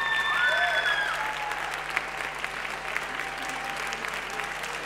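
Applause from an audience at a young talent showcase for first-grade performers, steady and full across the whole stretch, with a faint tonal sound fading early on.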